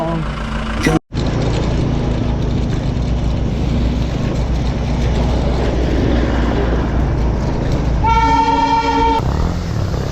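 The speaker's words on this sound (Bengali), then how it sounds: "আর সেই ঐতিহ্যবাহী ট্রেন দেখো এবার এখান থেকে বেরিয়ে যাবে" Continuous rumble and clatter as a heritage Darjeeling toy train pulls out of Ghum railway station, with a loud horn sounding near the end and voices faintly underneath.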